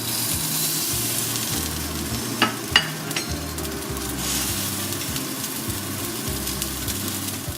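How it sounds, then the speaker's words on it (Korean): Salmon seasoned with salt and pepper sizzles skin-side down in a preheated oiled pan, a steady close crackle with a couple of sharp pops. "지글지글 거리는 소리 들리시죠?"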